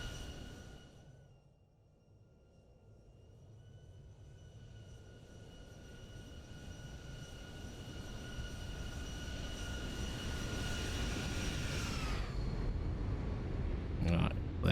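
Zibo Mod Boeing 737 airliner landing and rolling out on the runway in a flight simulator, a steady engine drone with a faint whine that swells gradually over about fifteen seconds, then shifts abruptly near the end.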